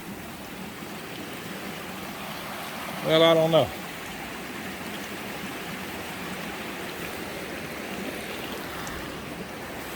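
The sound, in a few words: creek water flowing over rocks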